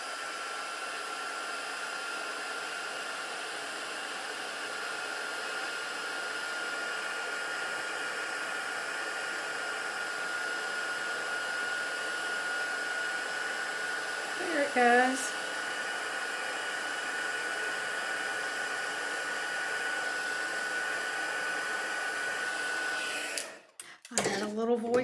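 A heat gun runs steadily for heat embossing powder on a handmade Christmas card, a continuous close whooshing hum that stops abruptly near the end, with a brief voice heard over it.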